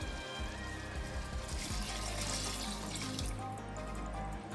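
Water pouring into a rice pot while cooking channa pulao: a close, continuous gushing splash with fluctuating churning as the stream fills the pot, with no talk.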